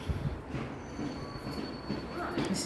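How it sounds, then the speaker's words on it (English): Trains running through a station platform, a steady rumbling low roar with a faint high squeal of wheels, continuous and fairly close, with no clear talk. "We're waiting to board at the train station"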